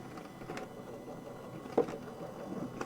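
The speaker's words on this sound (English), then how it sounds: "And then I'm going to run that through my machine." A manual craft die-cutting machine runs with a metal shim on top, giving a faint, steady mechanical whirring and rolling with one small clunk partway through.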